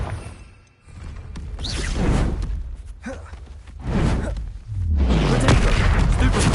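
Confringo explosion spells in Hogwarts Legacy land as loud whooshing booms and crashing blasts, several impacts in quick succession with swishes and rumbling between them, close and heavy.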